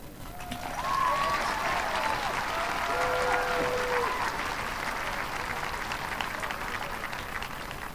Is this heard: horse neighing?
no